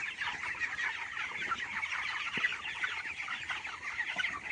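A flock of broiler chickens on a poultry farm clucks and murmurs continuously, many overlapping soft calls forming a steady, dense chorus close by with no voices.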